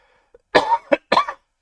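Three harsh coughs in quick succession, close and loud, preceded by a tiny throat sound, with silence in between.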